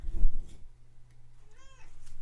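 A house cat gives one short, clear meow close by during a tabletop card game, rising then falling in pitch, after a brief bump of handling noise, with a low steady hum underneath.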